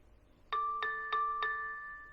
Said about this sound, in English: I hear the beeping sound.